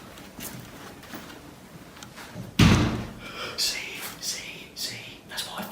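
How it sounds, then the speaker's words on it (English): A loud bang or thud, like a door slamming, sounds inside an abandoned building, followed by softer knocks and bumps, with people whispering and talking under it. "I keep hearing that banging. Can you hear that banging?"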